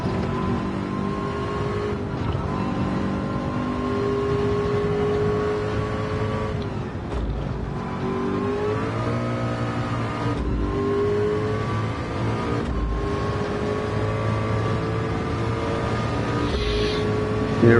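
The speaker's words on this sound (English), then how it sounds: "accelerating towards the Ford chicane here" A race car at Le Mans in a VR racing game accelerates hard toward a chicane, its engine whine climbing steadily through the gears with brief dips at each shift, loud and continuous throughout.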